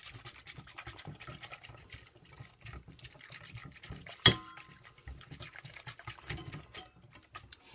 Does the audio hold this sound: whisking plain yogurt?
yes